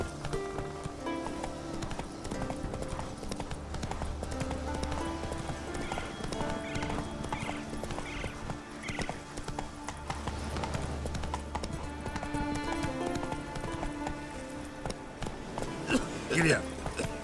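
Horse hooves clip-clop at a gallop in the video game The Witcher 3, a rapid rhythmic beat under game music and effects, with a brief whinny and a voice speaking over it.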